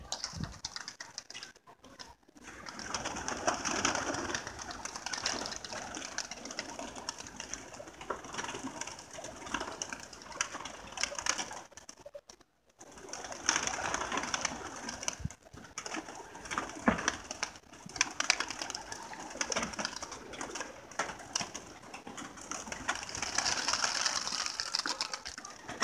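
Domestic pigeons coo softly in a loft, a low, continuous murmur of overlapping calls with faint shuffles and the odd small clink, quiet and without speech.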